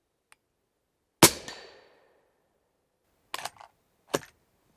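A single subsonic 300 Blackout rifle shot rings out sharply with a decaying tail, followed a couple of seconds later by two quicker mechanical clacks of the action, with the gas block set three clicks out and the brass failing to eject.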